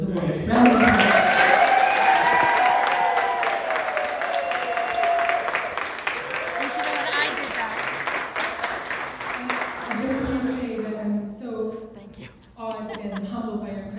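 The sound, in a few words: audience applause for Sujata Day's award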